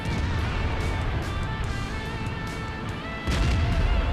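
A heavy tank's cannon fires in a tank battle video game, a booming shot among a busy rumble of engine noise and smaller impacts, with a louder blast near the end.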